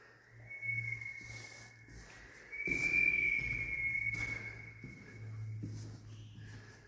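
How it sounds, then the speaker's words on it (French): Steady high-pitched wind whistle running throughout, swelling louder midway, over a low rumbling gusty background with no talking, at a mountain fort nearly 3000 metres up in the Alps. "On entend le sifflement du vent."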